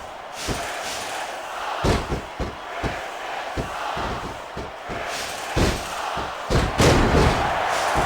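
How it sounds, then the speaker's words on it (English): A roaring arena crowd in the Smackdown vs Raw 2006 wrestling video game cheers continuously, punctuated by repeated heavy ring slams and thuds at an irregular rhythm. "I can't remember the last time I seen a crowd so pumped up."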